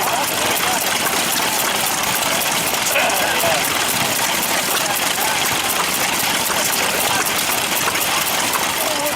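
A restored Series 3 Field Marshal tractor from about 1952 runs at a steam rally, its engine producing a steady, dense, continuous rumble that stays close throughout while people talk over it.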